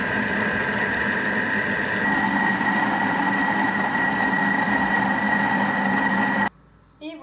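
A Thermomix runs steadily, blending orange blossom and rose water syrup for baklava at speed 3, with a constant motor hum and whir that stops abruptly near the end.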